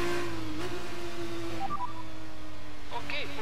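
A Formula 1 race car engine from the video game F1 2019 holds a steady, droning whine in the background, while a radio voice talks over it.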